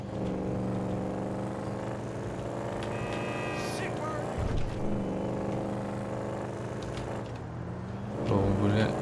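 A car engine in GTA 5 drones steadily with rising and falling revs, a whining tone sweeping up at one point, under faint talk.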